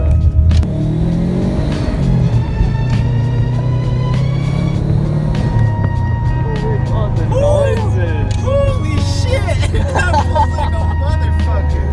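A Subaru GC with a WRX engine swap and manual gearbox rumbles along on the road, its engine a loud, steady low drone with shifts in pitch from the cabin, while people talk over it.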